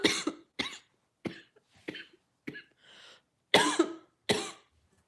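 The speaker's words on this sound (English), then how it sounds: "I just have a really bad cough." A person gives a bad cough in a run of roughly eight sharp, close, loud bursts spaced irregularly, with a short quieter breath or throat sound between them.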